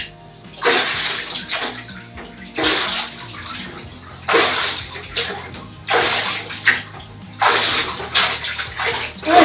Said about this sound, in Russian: Ой, как плескаться в воде хорошо.